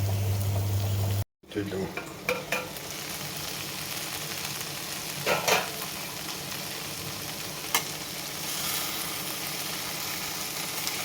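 Okra pieces frying in a pan with curry leaves and turmeric, a steady close sizzle with occasional stirring scrapes after a brief dropout near the start.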